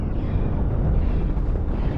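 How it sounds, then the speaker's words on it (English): Chain cannons in the space game Cosmoteer pound an enemy ship in a dense, continuous rumble of booming shots, with no pauses and no voices. "Chain cannons are firing, as are active defenses."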